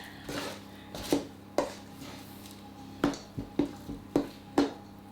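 A spoon scrapes and knocks against a bowl while mixing buttermilk fruit cake batter, about eight sharp irregular clinks over soft stirring noise, close up and without talk.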